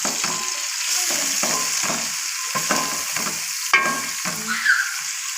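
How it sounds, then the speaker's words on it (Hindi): Onions frying in oil in a pot on a stove, with a steady loud sizzle broken by repeated scraping stirs in an irregular rhythm, heard close up. "खूबसूरत सी पतीली हमने चूल्हे के ऊपर रख दी है और ऑयल और प्याज इसमें डाल दिए हैं।"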